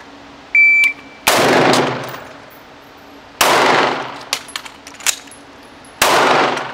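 Gunshots at an outdoor shooting range during a timed drill: about four loud, sharp bangs spaced seconds apart, each with a short ringing tail, plus lighter clicks and clanks between them and no talking.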